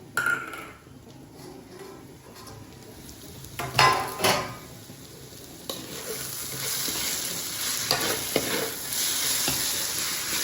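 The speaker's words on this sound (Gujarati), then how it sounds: "હવે એકવાર આપણે ખીચડી હલાવી લઈશું" Potato khichdi is stirred in a sizzling pan, the spoon scraping and clattering against the metal in a few sharp bursts over a steady, quiet frying hiss.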